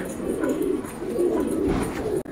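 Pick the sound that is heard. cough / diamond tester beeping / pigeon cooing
pigeon cooing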